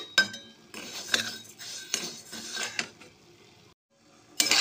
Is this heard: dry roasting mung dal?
yes